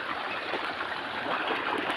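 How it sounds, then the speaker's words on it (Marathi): Steady rushing of water flowing in a small stream, a continuous close hiss with gentle gurgling and no other sounds. "बारीक साईडला पाणी वाहत आहे"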